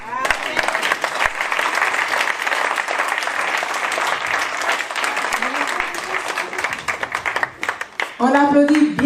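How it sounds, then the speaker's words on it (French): Loud, continuous applause from an audience at a public conference after a minister's address, dense clapping with scattered sharp claps, then a voice begins speaking as the applause ends. "On applaudit bien fort."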